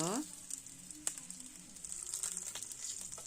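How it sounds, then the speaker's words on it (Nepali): Eggs frying in oil for egg curry give a crackling sizzle, with a sharp pop early on and brief tonal squeaks at the start, and the sizzle carries on at moderate level. "अब फ्राई गर्नुपर्छ मजाले। अन्डा जति राम्रो फ्राई भयो त्यति मिठो टेस्टी हुन्छ अन्डा करी।"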